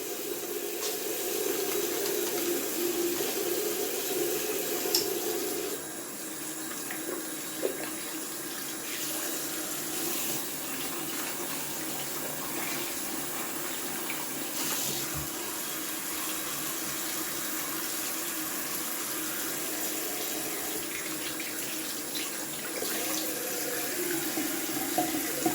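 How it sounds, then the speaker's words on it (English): A bathroom tap runs steadily while a sink is rinsed after shaving, a continuous close rush of water with small shifts in splash and occasional light knocks, no talking. "Rinsing off the sink pretty quick because I made a mess of that as well."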